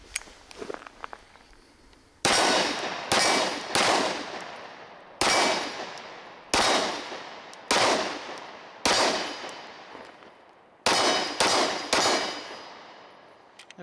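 Nine loud, sharp pistol shots from a Springfield Armory Ronin Commander 9mm 1911, fired outdoors at a steady pace with gaps between them, each followed by a ringing decay, with faint clanks before the first shot.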